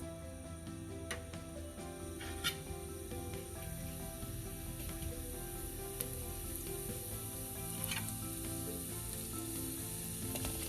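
Cumin seeds sauteing in a little oil in a kadai, a steady bright sizzle with occasional crackles and pops throughout, close and continuous with no talk.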